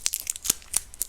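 Close, crisp tearing and crinkling sounds come in a few quick separate bursts, like strips of tape being ripped off a roll.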